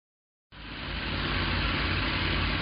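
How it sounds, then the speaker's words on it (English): The engine of a 1979 Lil Red Express truck starts after a moment of silence and settles into a steady, loud, broadband running roar. "getting the engine running again"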